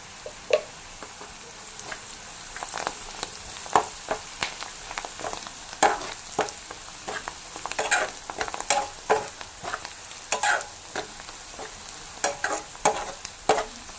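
Onion pieces sizzling in a pan for an egg curry, stirred with a spoon that scrapes and taps in frequent irregular strokes over a constant frying hiss, close and clear with no talk.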